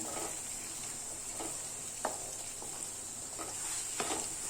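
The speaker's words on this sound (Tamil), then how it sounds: "இதை நல்லா கொஞ்சம் ஃப்ரை பண்ணிக்கலாம்." Six beaten eggs frying in a pan for egg fried rice, a constant hissing sizzle under a few short scraping strokes of a spatula, close and moderately loud, with no talking.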